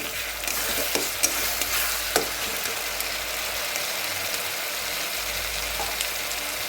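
Masala spices hitting mutton in a hot pan, a steady frying sizzle under repeated scraping stirs, with a few sharp clinks of the spoon against the metal; no talking.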